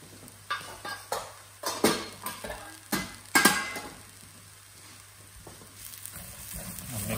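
A spiced mushroom stuffing mixture with garam masala and lemon cooks in a pan, with repeated clattering spoon scrapes and knocks over a low sizzle, close by.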